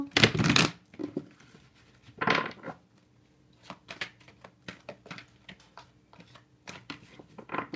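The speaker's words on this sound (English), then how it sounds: "Shuffle." A deck of tarot cards is shuffled up close during a reading, with a few loud riffling bursts followed by a run of softer, irregular card slaps and flicks.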